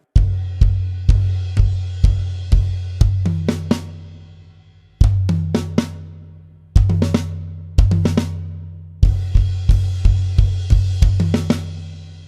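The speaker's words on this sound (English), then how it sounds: "that's the fill that happens at the end of the build-up." Drum fill closing a build-up in a song, with rapid, sharp hits in quick groups, crashes, and deep kicks ringing between the bursts, played loud and close with no talk.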